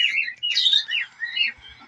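A baby bird gives shrill, rapid chirps and tweets close by, almost continuous for a moment with brief gaps between bursts.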